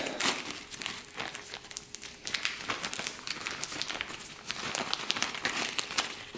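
Small plastic 5-inch zip ties handled and unpacked during work on a restored 1987 Honda CR80 dirt bike: continuous close crinkling and rustling of plastic packaging with sharp crackles, no speech over it.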